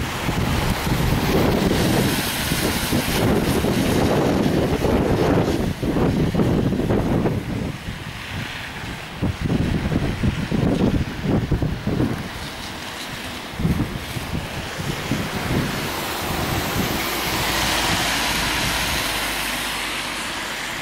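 Strong wind gusts buffet the microphone by the sea in Santa Cruz de Tenerife on a rainy evening, loud rushing bursts that rise and fall over distant surf.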